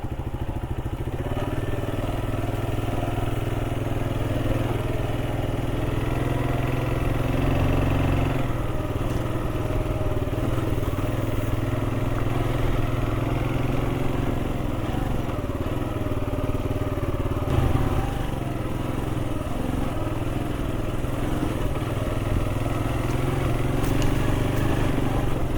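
A G-Moto Cross X Pro motorcycle with a rotary gearbox hums steadily while being ridden, a continuous moderate engine drone mixed with wind noise that holds level throughout.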